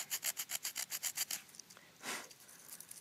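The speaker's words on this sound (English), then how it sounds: "you can sand stuff to shape" Wood is sanded to shape with rapid back-and-forth rasping strokes, about a dozen rhythmic passes close by, then a pause and a few slower rubs.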